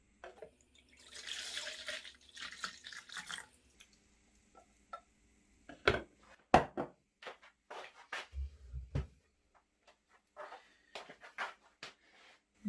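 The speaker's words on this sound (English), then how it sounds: "add another half pint of cold water" Half a pint of cold water pours into a jug for a couple of seconds, followed by scattered clicks, knocks and small handling noises in a quiet room.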